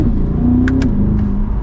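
A 2024 Chevrolet Corvette Stingray Z51 accelerates hard, its engine a loud, continuous close-up drone that climbs steadily in pitch.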